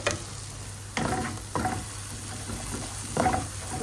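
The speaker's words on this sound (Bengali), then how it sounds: "পাশের চুলাতে আমি আবার একটু মশলাটা কষাইতেছি" Masala being sautéed in a pan on a stove, a steady sizzle punctuated by several bursts of louder stirring scrapes at irregular intervals, close and with no speech.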